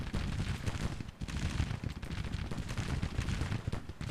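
Cannons fire in the Civil War strategy game Grand Tactician, a dense, continuous rumble of distant booms and crackling musketry with no talking.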